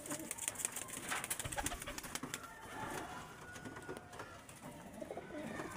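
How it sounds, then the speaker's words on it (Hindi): Pigeons coo softly in a rooftop loft holding large, expensive birds, a quiet, steady murmur of calls with occasional wing flutters, no talking. "ये देखिए कितना बड़ा कबूतर है दोस्तों"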